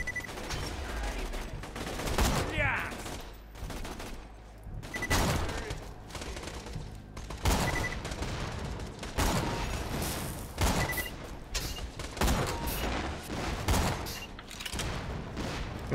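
Explosive-bullet gunfire from the video game Borderlands 2 rattles in loud repeated bursts, with booming impacts and dense volleys spread across the whole stretch and brief lulls between them.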